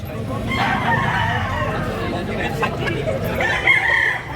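A fighting rooster for sale at a bustling poultry market in Consolacion, Cebu crows close by, its call rising over the steady murmur of a chattering crowd.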